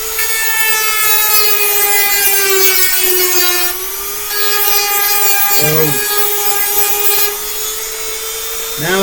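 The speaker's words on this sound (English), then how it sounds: "I can speed this thing up and I can sand it right off quick." A power sander grinds down a dog's nails with a loud, steady, high-pitched motor whine that runs almost without a break. There is one short dip in the middle.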